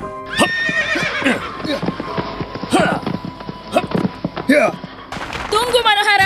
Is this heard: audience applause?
no